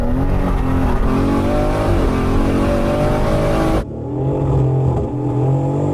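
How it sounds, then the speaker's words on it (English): A Supra Mk4 and a factory BMW M3 Competition accelerate hard side by side in a drag race, loud engine roar climbing through gears, with a sharp cut partway through. "Supra Mk4 versus a factory BMW M3 Competition"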